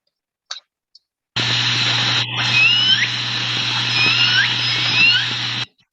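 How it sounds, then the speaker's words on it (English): Underwater recording of L pod orcas giving thin, bird-like chirps and short rising whistles, several faint calls spaced over a steady hiss and low hum. "And L pod, a lot of people think sound like birds."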